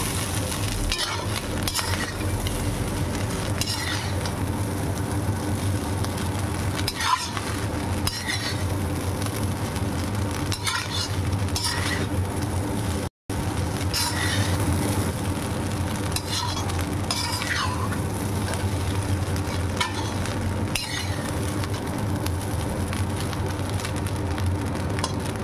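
Leftover rice being stirred and mixed with other ingredients in a hot frying pan, a continuous loud sizzle with repeated scraping strokes of a spatula running throughout, briefly cutting out near the middle.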